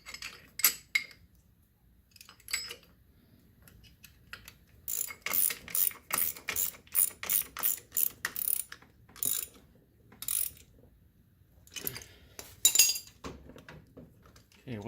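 A ratchet tightens fasteners on the bracket of a high-clearance forward A-arm on a Polaris RZR 570, clicking in repeated short bursts close to the tool with brief pauses between strokes.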